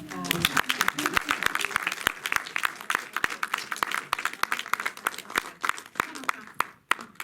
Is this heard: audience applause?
yes